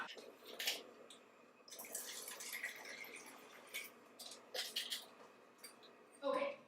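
Tap water runs and splashes softly into a container during a Kangen water demonstration, with a voice talking over it.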